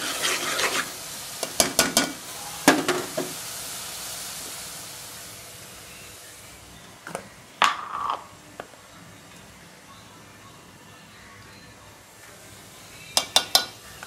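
Prawns cook in a spicy masala of ginger, garlic, coriander, fresh coconut, onion and tomato paste in a pan, giving a steady soft sizzle broken by a few sharp clinks of a spoon stirring against the metal.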